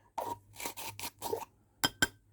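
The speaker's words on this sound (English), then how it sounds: "It's a hand grinder, you can hear." A hand grinder scrapes and rasps in five short, rhythmic strokes, followed by two sharp metallic taps, close and fairly quiet in an otherwise silent room with no talking.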